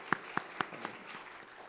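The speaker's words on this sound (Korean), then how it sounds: "방송실 위에서 박수 한번 하겠습니다" A church congregation claps together in a few sharp, evenly spaced beats that soon soften and trail off, heard faintly and at a distance.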